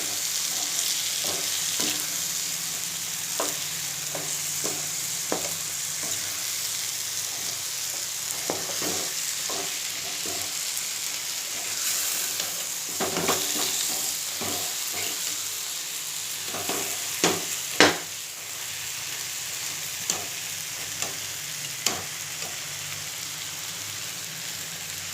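Eggplant and drumsticks curry fries in a pan with a steady crackling sizzle, punctuated by scraping, knocking stirs of a spoon, close and loud with no talk.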